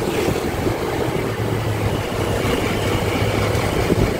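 A taho vendor's motorcycle runs with a steady low engine drone close by in a street in Batanes, continuous and fairly loud, with no talking.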